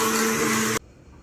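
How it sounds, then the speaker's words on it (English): An immersion blender whirs loudly through hot butter chicken sauce in a kitchen, a steady dense buzz that cuts off abruptly partway through, leaving quiet room tone. "The best way to do it is with an immersion blender."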